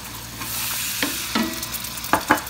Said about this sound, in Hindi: अब हमने इस मसाले को अच्छी तरह से टमाटर गलने तक भूनना है